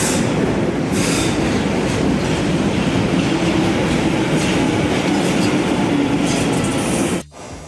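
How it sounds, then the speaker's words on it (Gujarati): A London Underground tube train pulls into Finchley Road station with a loud, continuous rumble and wheel clatter that cuts off abruptly near the end. "બટ ટ્રેનની રાહ જોઉં છું, આવે છે 1 મિનિટમાં ટ્રેન"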